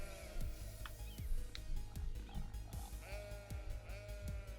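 Several sheep bleat on and off in the video game Cities: Skylines, over a steady low hum and background drone, some calls nearer and louder than others.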